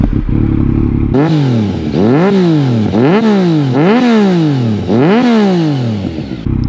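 A motorcycle with an aftermarket exhaust and no catalytic converter starts up and revs hard five times in quick succession, each rev rising and falling sharply, loud and close.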